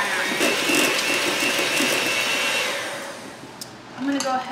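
An electric mixer whirs steadily while beating batter for a brown sugar cinnamon loaf, a close, bright motor hum that fades near the end before a short clatter.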